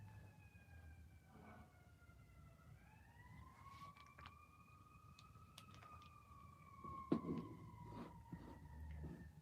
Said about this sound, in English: We got an ambulance or fire truck out on 23rd Street, it sounds like.